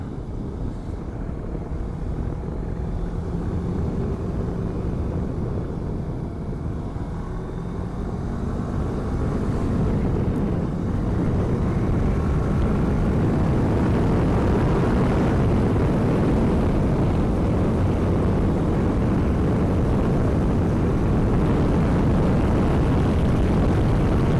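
A 2010 Kawasaki ER-4 motorcycle engine runs steadily at close range, a loud continuous low rumble that holds level and builds slightly in intensity throughout, with no voices.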